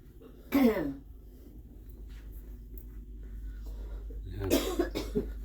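Two separate bursts of a woman coughing about four seconds apart, close by aboard an AIDA cruise ship, with a quiet hum of room and distant surf noise in between.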